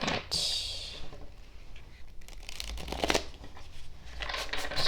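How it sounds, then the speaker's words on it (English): Tarot cards being shuffled close by, with brisk riffling bursts and soft slides repeating over several seconds, no voices. "I'm going to shuffle more closely"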